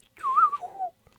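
A person whistles an imitation of the penny-whistle melody from the Titanic theme, a single clear sliding phrase lasting about a second, close and alone.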